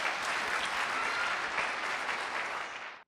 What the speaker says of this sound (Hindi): तो खुदावंद के नाम को जलाल देने के लिए हम ज़ोरदार ताली बजाएं चर्च।